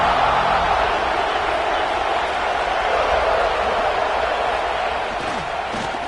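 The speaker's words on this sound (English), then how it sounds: "this home crowd is fired up and ready to make a difference today" A fired-up home crowd roars at a football stadium, a dense, loud, continuous wall of cheering and crowd noise for the whole stretch, with no pauses.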